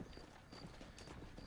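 A horse's hooves clip-clop faintly in Red Dead Redemption, a quiet, steady rhythm of hoofbeats set against low background ambience.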